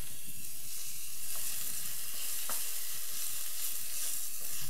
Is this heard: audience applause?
no